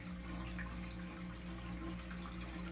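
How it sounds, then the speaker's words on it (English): Water steadily filling a 125 gallon aquarium display tank and spilling into the overflow cavity, a continuous close rushing flow with a low hum underneath at a constant level throughout. "once there's enough water in the display tank, it'll overflow into the overflow cavity"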